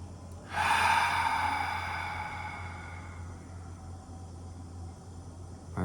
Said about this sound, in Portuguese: respirando pelo nariz e soltando pela boca.